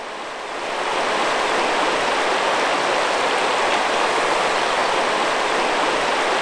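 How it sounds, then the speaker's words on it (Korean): Clear water flowing in the middle-upper reaches of a river, a dense, even rushing wash that fades in and then holds steady and loud, close by and with no voices. "맑은 물이 흐르는 하천의 중상류."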